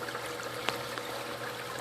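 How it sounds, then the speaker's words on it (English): Water trickles gently down the overflow pipe of a 300-gallon reef aquarium, a steady soft rushing hiss with a faint hum beneath it and no voices. "The water level is adjusted to where it'll barely trickle down the pipe"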